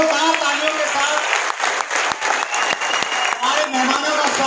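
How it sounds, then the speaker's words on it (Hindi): Audience at a business seminar applauding loudly, a dense, sustained burst of clapping close by, with a few brief dips in the rhythm and faint voices underneath. "एक बार फिर बहुत जोरदार तालियों के साथ"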